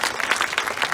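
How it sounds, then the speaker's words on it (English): An audience at a talk in Las Vegas claps in a brief, dense burst of applause, many hands at once, loud and near, lasting under a second. "Go ahead and clap if that resembles you."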